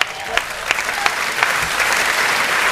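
A crowd at a live Hindi comedy show applauds in a steady, dense wash of clapping with a few sharper claps standing out, no speech over it.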